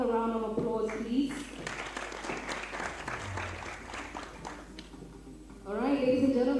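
Audience applause at a magazine launch event, a crowd clapping in a busy rhythmic patter with a voice speaking over the start and end of it.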